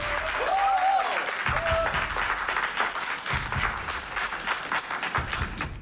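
An audience applauds to welcome the host onto the stage at a Korean church debate event, a full round of clapping that swells early and then continues with slight rises and dips, with a few brief whoops.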